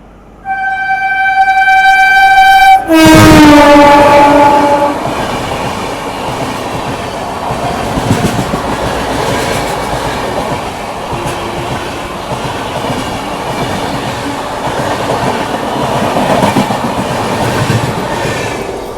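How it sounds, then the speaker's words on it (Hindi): The Gatimaan Express passes at speed while overtaking another train: a loud, sustained roar of wheels and coaches rushes close by, and a sharp high horn sounds just before it arrives. "आ रही है इंडिया की सबसे फास्टेस्ट ट्रेन गतिमान एक्सप्रेस"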